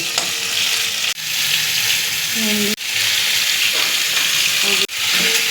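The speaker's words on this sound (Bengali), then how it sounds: "প্রথমে উচ্ছেগুলো দিয়ে একটুখানি ভাজা ভাজা করে নেব" Bitter gourd pieces frying in hot oil, with a loud, steady, close sizzle broken by a few brief pauses.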